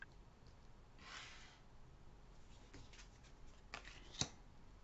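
Tarot cards shuffled and drawn in a quiet room, with soft riffling swishes and light card slaps, a sharp snap near the end, faint and close.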